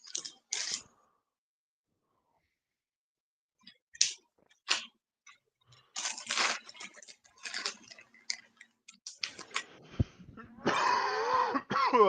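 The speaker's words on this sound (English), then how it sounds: "Can you hear me coughing when I put my mic up?" Someone coughs several times during a live workout-recovery stream, with scattered short coughs and throat-clearing bursts, faint clicks and pauses of near silence in between.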